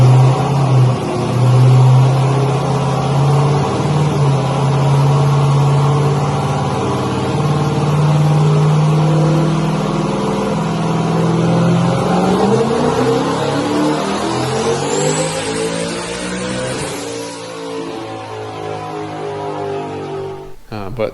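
A Camaro engine roars on a dyno at sustained high revs, loud and close, then climbs in pitch before cutting off sharply near the end; a brief voice may sit under the din.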